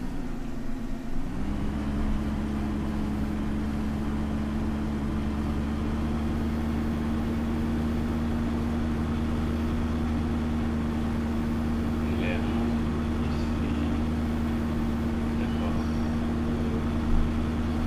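A small tractor's engine in the Farming Simulator video game hums as a steady, low, constant drone throughout, with an unchanging pitch and even loudness.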